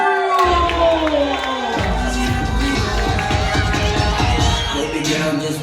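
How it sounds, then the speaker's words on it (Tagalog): A crowd cheers, whoops and shouts at a wedding grand entrance for the groom's team, continuous and loud over pounding music that starts a few seconds in. "ladies and gentlemen, give it up for Justin of the Team Groom!"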